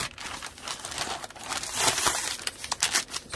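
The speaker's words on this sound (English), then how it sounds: "Just open the whole bag up." A paper bag being torn open for a junk journal cover, with close, busy crinkling and ripping that keeps rustling unevenly throughout.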